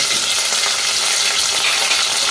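Chopped onion, whole garlic cloves and dried red chili frying in hot oil, giving a loud, dense, continuous sizzle close up with no voices.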